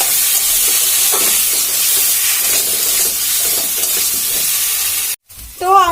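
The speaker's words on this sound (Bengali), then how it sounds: "মশলাটা দিয়ে একটু ভালো করে কষিয়ে নিতে হবে" Taro sizzles and steams in a pan with a paste of ground cumin, ginger and green chilli, a steady loud hiss broken by scraping stirs, then a brief silence and a short clatter at the end.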